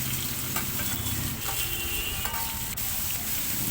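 Finely chopped onions frying in a pan give a steady, close sizzle with crackles and the occasional scrape of stirring, continuous and even in loudness.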